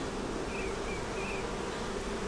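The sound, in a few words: honey bees buzzing on hive frame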